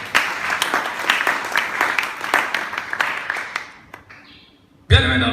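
A church congregation at a Sunday service applauds in a dense, lively burst of clapping that gradually thins and fades, before a loud sudden sound cuts in at the end.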